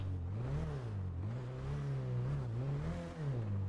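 A car in GTA V accelerates with a droning engine whose pitch rises and falls in waves as it gets on and off the throttle, loud and continuous.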